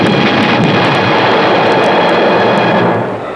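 A loud, steady airplane engine drone fills the air in a sci-fi movie trailer, a broad continuous roar that fades slightly at the end.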